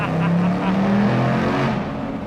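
A 2019 Ford Mustang engine roars continuously in a tunnel with a deep, reverberant rumble, holding steady before fading slightly at the end.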